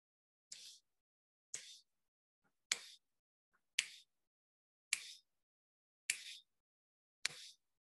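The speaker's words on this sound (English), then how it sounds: "I'm gonna snap my fingers in case you can't hear my breath." Seven crisp, isolated finger snaps, evenly spaced about a second apart, close and clear in an otherwise quiet room.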